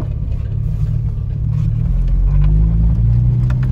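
A Mk1 Ford Fiesta 1300S on the move, its engine giving a loud, steady low rumble from inside the cabin that swells slightly as it accelerates, with no talking over it.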